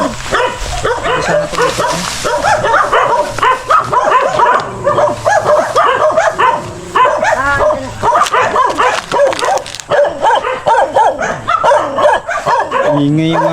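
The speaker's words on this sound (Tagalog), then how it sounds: "ingay yung aso" Dog barks and yips repeatedly in a village, sharp bursts mixed with whimpering, close and loud, interleaved with people talking nearby.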